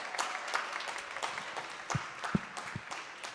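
Scattered applause at a Harlem mayoral candidates forum in New York City as the moderator is welcomed: a few distinct claps over a soft, fairly distant crowd patter.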